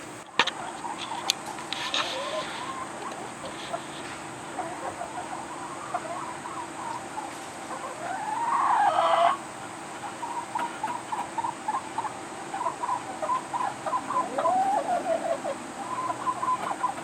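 Pet backyard hens cluck and chirp in soft, scattered calls over a steady outdoor background hum, with a brief louder burst midway and no talking.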